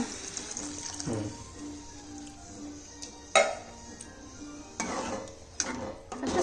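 Tap water runs into a pot while sago upma is cooked in a home kitchen, with a steady rush and splash, and a few clinks of dishes and utensils nearby.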